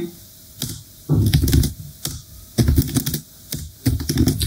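Computer keyboard typing in bursts of rapid key clicks, including Enter and Tab presses, loud and close with short pauses between runs of keystrokes.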